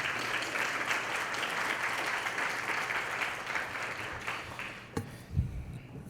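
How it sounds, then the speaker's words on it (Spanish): Sustained audience applause at a university lecture event in Peru, dense and steady for several seconds, then tapering near the end as a speaker begins to take over. "Lo recibimos con un aplauso."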